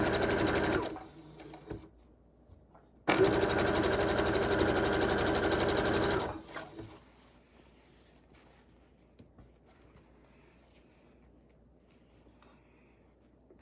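Sewing machine stitching quilt pieces for a patriotic three-fabric quilt: two loud, steady bursts of rapid machine whirring, a short one at the start and a longer one of about three seconds, then quiet handling sounds.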